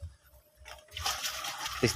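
Old water from a tub is poured out in the garden, a soft gurgle giving way to a splashing rush that runs for the last second, close and moderately loud.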